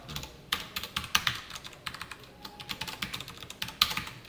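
Code being typed on a computer keyboard, quick irregular bursts of crisp key clicks close up, with brief pauses between runs and no talking.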